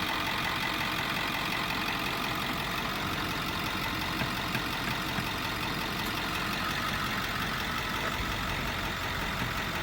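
An old car engine, recently started after sitting dirty, idles steadily with a continuous low rumble and faint knocking throughout, close and fairly loud with no talk.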